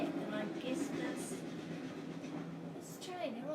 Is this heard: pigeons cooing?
no